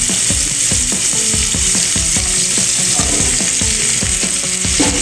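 Drumstick pieces hit hot oil already tempered with five-spice (panch phoron), setting off a loud, dense, continuous sizzle with rhythmic stirring clatter close by and no speech.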